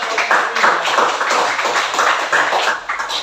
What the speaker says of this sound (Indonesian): Sekali lagi tepuk tangan anak-anak.